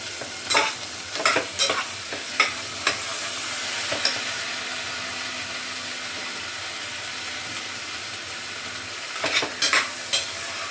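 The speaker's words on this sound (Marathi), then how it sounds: "हे बघा आता मी तेलामध्ये तेल वाटण मसाल्यामध्ये सगळं मी असे चणे मस्त परतून घेतले" Chickpeas (kabuli chana) being stirred and sautéed in oil with a ground masala paste give a continuous soft sizzle, broken by repeated scraping stirs of a spoon against the pan.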